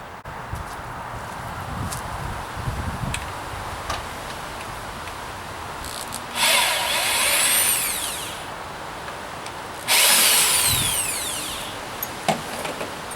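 A power drill takes the latch and hardware off a rabbit hutch in two loud whirring bursts whose pitch rises and falls, with softer clicks and handling noises between them and no speech.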